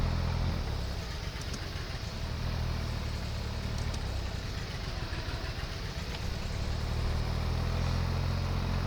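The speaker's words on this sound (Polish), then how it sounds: "Mam nadzieję, że ten ciągnik nie jest za głośno." A tractor engine runs steadily while sowing a field, a continuous mid-pitched diesel drone with slight rhythmic fluctuation, fairly close and unbroken throughout.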